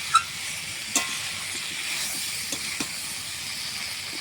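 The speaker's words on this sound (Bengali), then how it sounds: "এরপর আমি একটু জল দিয়ে দেব দিয়ে ফোটাবো চিংড়ি মাছটাকে" Shrimp simmering in a pot after water is added, giving a steady soft hiss and bubbling with a few faint clinks, close and alone with no talk.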